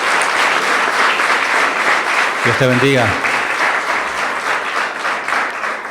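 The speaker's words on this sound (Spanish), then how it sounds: "damos un aplauso al Señor por esa misión también" A church congregation applauds in praise of a mission. The clapping is sustained and fairly loud from start to finish, and a single voice speaks briefly over it midway.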